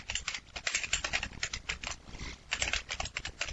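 Rapid, steady typing on a computer keyboard into a word processor on Linux, crisp close clicks with short pauses and nobody speaking.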